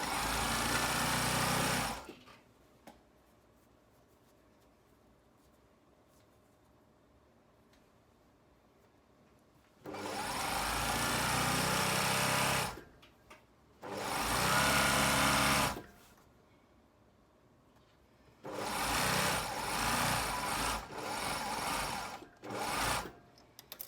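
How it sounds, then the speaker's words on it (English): A sewing machine stitches down the inside seam of a pair of flared trousers, running in three or four loud bursts of steady whirring separated by near-silent pauses. "we're just going to sew down this inside seam. So back tucking and sew all the way down"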